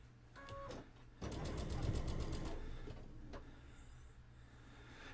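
A sewing machine stitches quilt blocks, its steady mechanical whirring running in near, continuous bursts with a brief pause and a quieter stretch toward the end.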